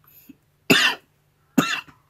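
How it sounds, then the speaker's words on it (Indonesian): Two loud, close coughs a second apart, each a harsh burst, with a faint throat sound just before and no talking. "Maaf ya, saya batuk, maaf."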